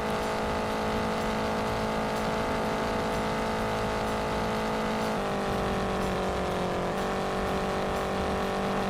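Race car engine in the Indianapolis 500 Evolution racing game, a steady loud sustained drone with shifting pitch as the car holds speed and changes gear, continuous throughout with no talk.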